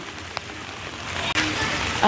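Heavy rain falls outdoors in a dense, even hiss that stays loud and steady throughout, with one brief dropout near the end.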